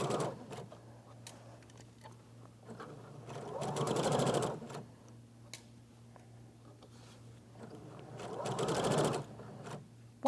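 A sewing machine stitching fabric in two loud bursts of rapid, even mechanical ticking, separated by quieter pauses with soft handling clicks and a low steady hum.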